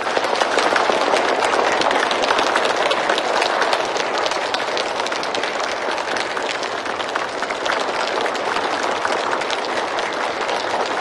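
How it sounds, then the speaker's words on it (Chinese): A large crowd gives a speaker warm, dense applause, the clapping loud and unbroken across about eleven seconds. "那就让我们用最热烈的掌声感谢她"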